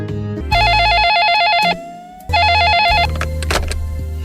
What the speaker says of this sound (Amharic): ምን ነው ስልኩ ሲጮህ አይነሳም?